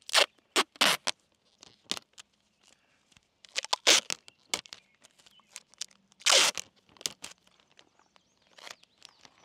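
Plastic tape is pulled and pressed onto a plastic flap on an IBC tote solar kiln, giving a close run of sharp tearing rips and crinkly scrapes in irregular bursts with quiet pauses between.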